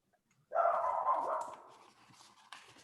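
A dog outdoors at a park gives one drawn-out, tonal bark or yelp that fades into a whine, moderately close, followed by quiet background noise and a faint thump.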